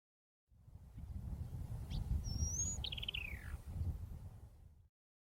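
A Sabota lark mimics the call of an African rock pipit, giving a few clear whistled notes and a descending trill over a low background rumble.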